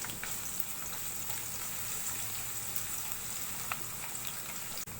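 Onions fry in oil in a wok, giving a steady, moderately quiet sizzle with occasional crackles and a brief knock near the end.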